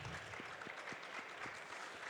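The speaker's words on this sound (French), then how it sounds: "Vous pouvez l'applaudir, la marmotte Alan." Applause from a conference audience welcoming Alan, a marmot mascot, at a hospitality trade show, steady and moderately distant throughout with no talk over it.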